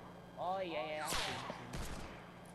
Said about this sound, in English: Whoa, I've just been sniped.